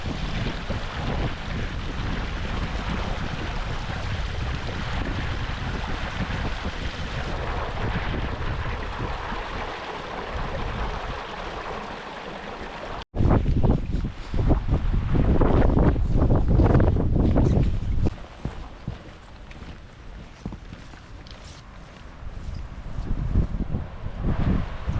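Strong mountain wind on Meall Greigh above Loch Tay roars in a steady buffeting rush across the microphone, breaks off abruptly for an instant midway, then returns in louder, gustier surges.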